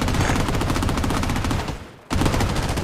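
Rapid automatic gunfire in the shooter game Bloodstrike, a loud, sustained stream of shots that breaks off for a brief gap near the two-second mark, then resumes at full intensity.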